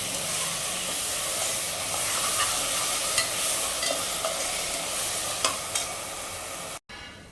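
Ground masala paste frying in oil with onions for a shevla vegetable dish, a steady close sizzle and hiss with scraping stir strokes throughout, ending in a brief cut.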